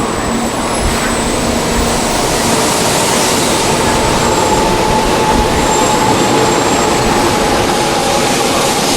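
An East Coast bullet train in the Trainz railway simulator rolls past a lighthouse station, a loud continuous rumble and roar with faint tonal hums running steadily throughout.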